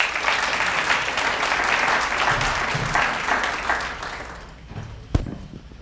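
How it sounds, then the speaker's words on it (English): At an awards ceremony, an audience gives a round of applause welcoming a speaker, dense clapping that fades out near the end, followed by a single sharp knock. "Let's welcome him with a round of applause."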